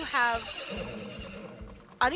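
A horse neighs loudly near the start at a horse race in a video game, with a second whinny cutting in at the end and faint hoof or game sounds between; a voice talks underneath.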